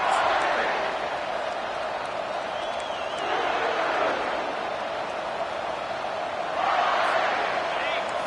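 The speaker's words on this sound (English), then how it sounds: "This crowd, full throat, spreading the eardrums and letting them know it's going to be a long day." Stadium crowd at a college football game roaring in a sustained, loud wash of cheering that swells at the start and again near the end, with a commentator talking over it.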